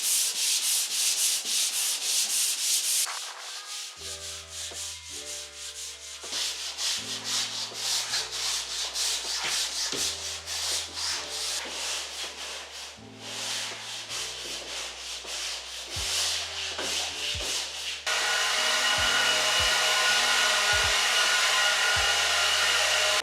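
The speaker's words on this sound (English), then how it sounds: "Sanding a ceiling friggin' sucks." A drywall ceiling in a garage renovation is sanded by hand with a mesh sanding screen, a loud continuous scraping rub close to the microphone in long strokes, with short pauses and faint tonal hum underneath.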